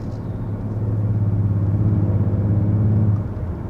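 A 2022 Kia Stinger GT2 in sport mode with strong exhaust augmentation, giving a deep, steady low engine and exhaust drone that builds slightly, holds for about three seconds, then eases off.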